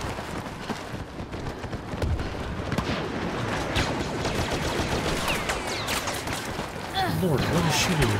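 Steady barrage of blaster-style gunfire in Star Wars Battlefront multiplayer combat, dense overlapping shots and explosions running throughout at a loud, constant level, with a player's voice talking over the battle.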